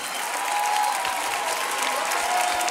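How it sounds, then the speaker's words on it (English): An audience at a house dance battle cheers and applauds, a dense, loud, continuous wash of clapping and crowd noise that holds steady throughout. "Make some noise for Nene"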